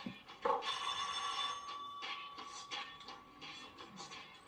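A telephone bell rings indoors, a steady trilling tone that sounds over several seconds at moderate loudness, with faint background voices.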